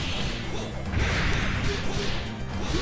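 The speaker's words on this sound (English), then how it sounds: "Oh, I've smashed his face off." An enemy takes a smashing hit in the arcade brawler Monster Maulers, a crunchy crash with swishing impacts layered over busy, noisy game sound.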